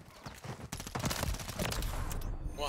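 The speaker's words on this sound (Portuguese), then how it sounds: "o cara tomou a rajada bonita na boca e não morreu agora" Rapid gunfire bursts from the video game Modern Warfare 3 on the Shoot House map, dense and loud, with overlapping shots and in-game action sounds filling the moment without pause.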